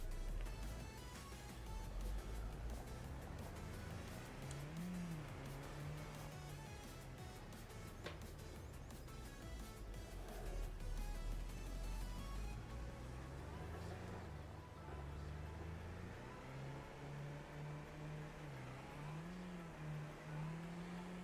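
A car driven across a farm in Farming Simulator 25, with a steady engine drone that rises and falls with gear changes and holds for the whole stretch. No one speaks.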